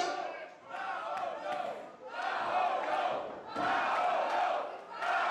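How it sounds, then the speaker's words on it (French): Wrestling crowd at an NCW live event in Sainte-Thérèse chanting a wrestler's name in loud, rhythmic waves that swell and dip across the whole stretch, dense and continuous. "La foule qui scanne le nom de Paolo."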